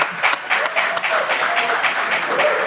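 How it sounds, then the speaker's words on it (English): Audience applause for panel guests at a live tokenized fashion showcase, a steady crowd clapping that holds for the whole few seconds, close and fairly loud. "Can we the get a round of invitation. applause?"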